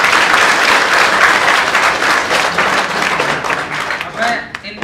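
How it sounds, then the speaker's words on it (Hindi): An audience at a motivational speech event breaks into loud, sustained applause, dense continuous clapping that thins out toward the end. "एक बार फिर से भाई को तालियां बजा करके जोरदार"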